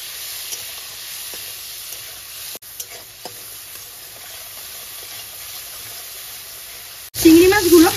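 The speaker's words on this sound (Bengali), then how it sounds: "এবার প্রথমে হালকা করে চিংড়ি মাছটা একটু ভেজে নেব" Prawns fry in hot oil seasoned with salt and turmeric, giving a soft, steady sizzle with faint stirring clicks, and a voice speaks near the end.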